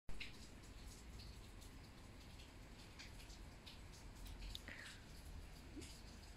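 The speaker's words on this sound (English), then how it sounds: "It's actually pouring down." Heavy summer rain pours down outside, a steady faint hiss of falling water with scattered drips and patters and no voices.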